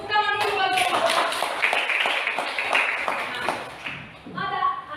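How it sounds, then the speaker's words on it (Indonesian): A classroom group gives a speaker a round of applause, with close, uneven hand claps forming a brisk patter. Voices and chatter mix in among the claps throughout. "Tepuk tangan dulu bagi Bapak."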